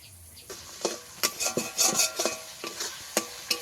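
Spice paste (masala) stir-fried in a pan, with a spatula scraping and clinking against metal in repeated close strokes over a low sizzle, for a fish pulao.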